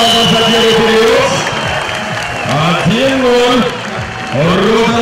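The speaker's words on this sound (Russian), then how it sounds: "ваши аплодисменты, команда за первый период" Spectators at a bandy match between Lokomotiv and Rotor in Volgograd applaud and cheer loudly in a large venue, a continuous roar of clapping and whoops under an announcer's voice.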